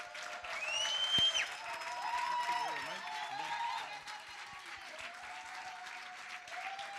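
Warm applause from an audience at a women-in-sport summit welcoming a provincial sports official. The clapping is sustained, with high, wavering voices cheering and ululating over it, loudest early and then settling.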